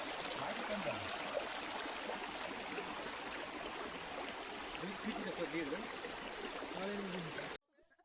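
Clear forest stream in Dandeli running steadily over rocks, a constant close rushing trickle and gurgle filling the clip before cutting off abruptly near the end.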